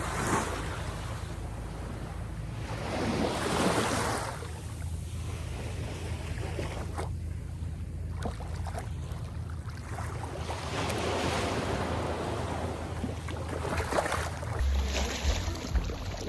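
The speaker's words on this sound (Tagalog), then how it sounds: "medyo malakas na yung alon mga kap" Ocean waves washing ashore at low tide on an Eastern Samar beach at sunrise, a steady broad surf wash with swelling surges and wind buffeting the microphone, no talk.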